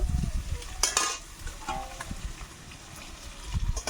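Duck eggs fry in oil in a pan with a close, steady sizzle, broken by bursts of crackling spatter and a few thumps and scrapes.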